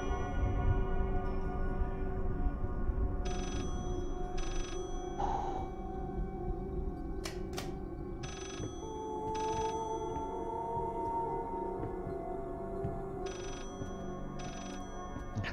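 A telephone rings repeatedly inside the Layers of Fear horror game, steady spaced bursts of ringing over a constant droning ambient background, with no one talking.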